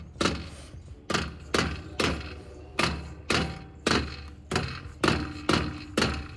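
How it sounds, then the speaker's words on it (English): A loose secondary catalytic converter on a Mazda NC Miata gives a regular series of hollow thuds and knocks, roughly twice a second, each a short metallic rattle with a fading tail, close and distinct with no talk. "Hear that rattle?"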